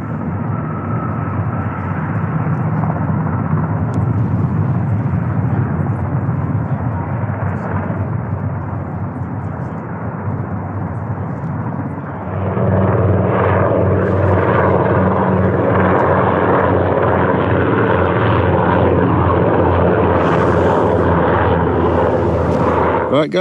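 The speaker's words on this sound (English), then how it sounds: "I'm literally higher than the chopper is." A mountain rescue helicopter flies low overhead at night near a large UK landslide, making a loud, continuous rotor and engine roar that grows heavier about halfway through.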